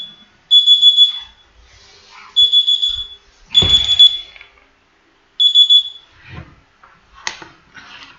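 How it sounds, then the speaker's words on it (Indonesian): An alarm sounds in four sharp, high, steady beeping bursts separated by short pauses, loud and close in an otherwise quiet room, with a brief thump in between. "Maaf ya, alarm saya berbunyi, saya matikan dulu."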